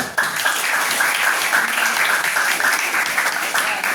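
Classroom of students clapping together at the end of a social studies lesson, a loud, close burst of applause lasting a few seconds, with voices mixed in.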